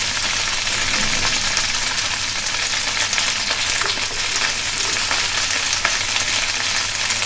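Green chillies hit a frying pan while cooking chingri palong, prawns with spinach, giving a loud, steady, close sizzle and crackle that holds without a break, with no voices.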